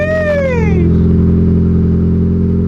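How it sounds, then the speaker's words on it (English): A 1.8L Mazda Miata's loud, raspy straight-pipe exhaust revs sharply once, then settles into a rumbling idle, close by and alone. "The number one thing about this Miata that's crazy is that exhaust."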